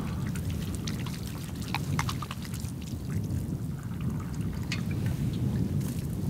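Hot water poured steadily from a container during a cold, windy winter campout at minus five degrees, a continuous liquid splash and trickle heard close up against gusting wind noise.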